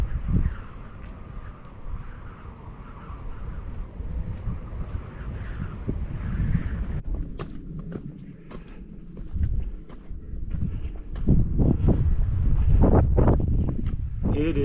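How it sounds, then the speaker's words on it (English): Strong wind of about 30 miles an hour on a hiking trail in Capitol Reef National Park, Utah, roaring and buffeting the microphone in continuous loud gusts with deep rumbling, alone without talk. "The wind's blowing, 30 miles an hour, and it shakes you a little bit as you're going up."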